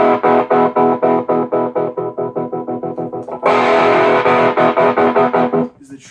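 A Supro 1419 amp's tremolo pulses the volume of an electric guitar, with strummed chords throbbing in a steady rhythm. The chords are loud and gritty, and they turn fuller and brighter partway through before cutting off abruptly.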